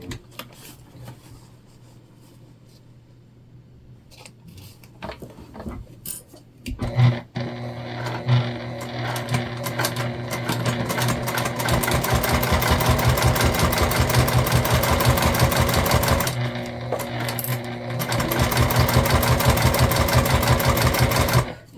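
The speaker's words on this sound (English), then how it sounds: "We will clip that extra length off after we sew this on." A sewing machine stitches vinyl for a handbag, starting with a few quiet handling noises, then a fast, rhythmic mechanical chatter that runs steadily, pauses briefly, and resumes close by.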